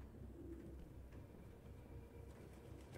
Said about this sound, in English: these birds ain't flying out the damn window